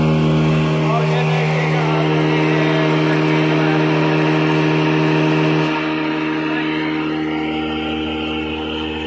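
A US-made Toshiba electric motor in its original winding drives a solar-powered flour mill through a 16-inch pulley, a loud steady hum with strong tonal drone and mechanical rumble that eases slightly partway through, while someone talks over it.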